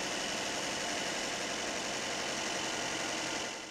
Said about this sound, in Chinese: 现场，徐先生发动车子，发动机发出的声音，他觉得也是有问题的。